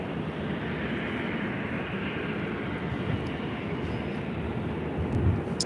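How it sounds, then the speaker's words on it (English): A Delta Airlines Airbus A330neo arriving at LAX after a long-haul flight from Tokyo Haneda produces a steady, broad jet roar that holds constant throughout, swelling slightly toward the end, with no talking. "This is Delta Airlines Flight 8 Heavy coming in from Tokyo Haneda on the A330neo."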